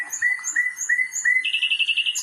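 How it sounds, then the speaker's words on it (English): Two plump little sparrows flying about indoors, chirping in a steady series of bright, close, repeated calls that rise into a busier, higher twitter toward the end, with no talk. "there were two plump little sparrows flying all over the room"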